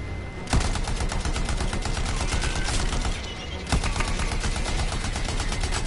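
Rapid automatic weapon fire in the video game Anthem, a dense continuous rattle of shots with a couple of louder booming hits layered over game ambience.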